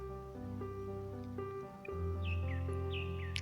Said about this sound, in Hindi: अक्सर गांव में जब सुबह सुबह उठते हैं तो फाख्ता की आवाज़ होती है, बहुत कोयल की, फाख्ता की